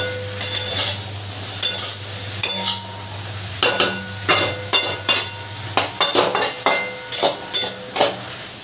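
A spoon scrapes and clatters against a pan as soybean and potato curry is stirred, with about a dozen short, sharp knocks and scrapes in an uneven rhythm over a low steady hum.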